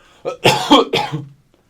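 A man on a podcast coughs loudly and close to the mic, a quick run of three or four harsh hacking bursts ending in a throat-clearing rasp.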